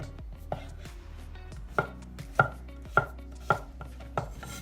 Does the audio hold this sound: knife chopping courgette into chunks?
yes